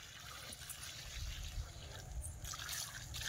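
Water poured from a bucket onto the bases of kohlrabi seedlings in a garden bed, a soft steady trickle and splash lasting a few seconds, faint and close.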